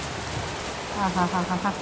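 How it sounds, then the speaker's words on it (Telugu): Rain patters in a soft steady hiss while a voice speaks briefly over it near the end. "వర్షం చూసారు ఎలా పడుతుందో"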